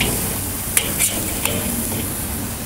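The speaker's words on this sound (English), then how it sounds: "I'm now going to take each one, flip it over, and sear it." Burger patties flipped onto the sear side of a hot grill give a continuous loud sizzle, with a few sharp metallic taps from the spatula standing out near and clear.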